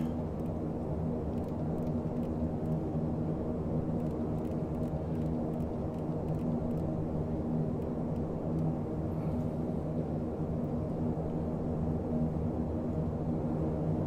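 A DHC Dash-7 turboprop airliner climbing after takeoff from runway 25 right at Phoenix, a steady loud droning engine hum and rumble heard continuously without change, with no talking.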